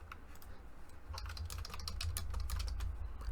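Fast typing on a computer keyboard, close and crisp: a quick run of light clicking keystrokes that gets denser and slightly louder partway through, with a steady low hum underneath.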